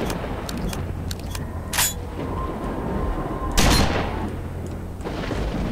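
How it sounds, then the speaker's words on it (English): Two heavy shotgun blasts from S.T.A.L.K.E.R.: Shadow of Chernobyl boom out a couple of seconds apart over a steady engine-like drone and small metallic clicks, each blast loud and close with a short decaying tail. "in this game, you can shoot ghosts with shotguns"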